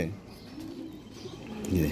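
Pigeons coo softly in low, repeated throaty calls against a murmuring background, with a fuller burst of cooing near the end; one pigeon is badly wounded from a hawk attack.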